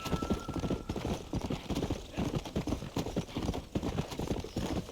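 A horse gallops steadily in Red Dead Redemption, hooves clip-clopping in a fast, even rhythm that stays loud and close throughout, with a faint whinny in the mix.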